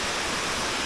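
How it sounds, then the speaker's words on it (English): A small stream flows at a waterfall on the way up, a dense, steady rush of water that fills the moment, close and continuous with no voices. "the only way to get up to the top of the waterfalls is walking up the little stream"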